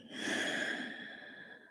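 A long, slow audible exhale or sigh during a gentle yoga flow, close and breathy, with no talking over it.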